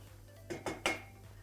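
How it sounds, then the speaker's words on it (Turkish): Pasta with garlic and mushrooms being stirred in a pan gives a few quick scrapes and clinks of utensil on cookware, about three short bursts close by over a quiet background. "Hemen makarnamı şöyle bir karıştırıyorum."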